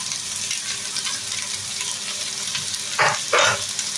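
Thinly sliced onions fry in hot oil with ginger, garlic, green chilli and curry leaves, a steady close sizzle broken by two loud bursts of stirring near the end; no voices.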